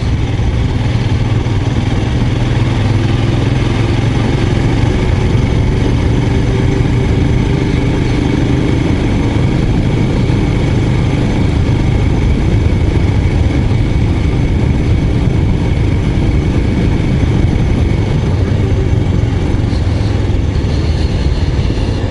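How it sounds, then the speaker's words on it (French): A small vineyard tractor engine chugs continuously, a low, rough drone that stays loud and steady throughout with no pauses. "Ça, c'est un tracteur pour aller passer dans les vignes"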